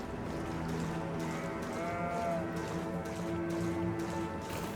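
A sheep in the video game Elden Ring bleats in wavering, drawn-out calls over a steady ambient game backdrop.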